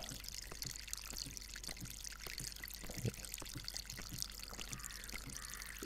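Garden waterfall pouring and trickling steadily, a continuous splashing wash of falling water with scattered small clicks, moderately close and without speech.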